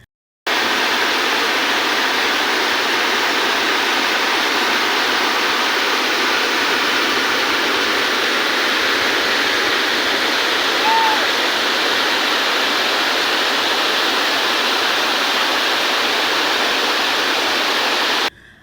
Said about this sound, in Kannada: ಗುಡ್ಡದಿಂದ ಮಳೆ ನೀರು ಕೆಳಗಿಳಿದು ಜಲಪಾತ ಸೃಷ್ಟಿ ಮಾಡಿದ್ದು